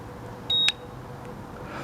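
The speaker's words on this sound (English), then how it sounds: "Did you hear that beep?" A single short electronic beep rings out clearly, followed by a faint second blip, over a quiet background hum.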